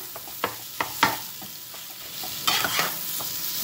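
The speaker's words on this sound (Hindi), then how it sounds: "इसको हमें थोड़ी देर के लिए चलाते रहना है, चलाते हुए इसको थोड़ा सा और भूनना है।" Moong dal being stirred and roasted in a pan for halwa, a spoon scraping in several distinct strokes over a steady soft sizzle, close and alone.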